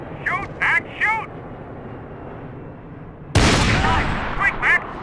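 Heavy gunfire in a Max Payne 3 shootout: a loud, dense burst of shots erupts late and keeps going to the end, with a voice calling out before and during it.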